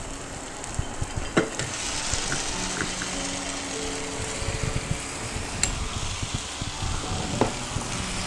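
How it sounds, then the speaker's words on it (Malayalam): Fried chicken stirred into sizzling shallots, dried chilies and masala for a Malabar chicken kondattam, with a steady close frying hiss and occasional spatula scrapes and knocks on the pan. "ഇനി നമ്മൾ ഫ്രൈ ചെയ്ത് വെച്ച ചിക്കനും കൂടി ഇതിനകത്തേക്ക് ഇട്ട് കൊടുത്ത് നന്നായിട്ടൊന്ന് മിക്സ് ചെയ്തെടുക്കാം."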